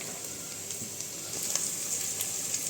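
Onions and capsicum sizzle steadily in a pan for restaurant-style chilli chicken, a continuous close hiss of frying that swells a little louder partway through, with no voices.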